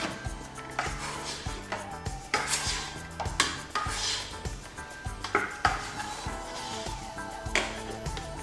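Whipped cream being folded into a mixture in a bowl, heard as repeated utensil scrapes and clinks against the bowl in a steady, close rhythm with no talking.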